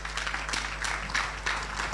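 A group of people claps at an academy anniversary gathering, a brief burst of scattered, uneven hand claps over a low steady hum.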